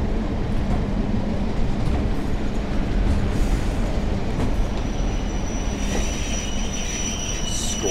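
Passenger train in Train Sim World 4 on the Blackpool branch line braking hard, a loud continuous rumble of wheels with a high metallic squeal of wheels on rail building toward the end, no talk.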